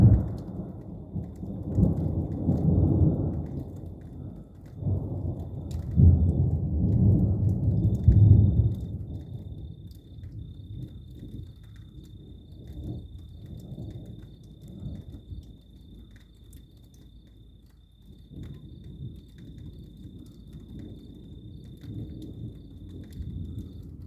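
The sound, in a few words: thunder and rain during a thunderstorm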